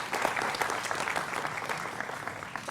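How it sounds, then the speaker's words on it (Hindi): An audience at a Hindi TV political debate show applauds to welcome an RJD spokesperson onto the panel, a short, even burst of many hands clapping, moderately faint and without talk. "मृत्युंजय तिवारी, प्रवक्ता आरजेडी के, जोरदार तालियों के साथ उनका अभिनंदन है"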